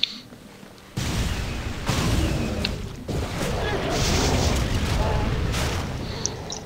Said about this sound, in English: Smoke and explosions.